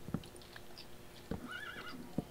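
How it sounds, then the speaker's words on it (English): Baby donkey in Minecraft with the Mo' Creatures mod, a faint short whinnying bray rising and falling amid soft thumps and clicks of game sounds. "A baby donkey."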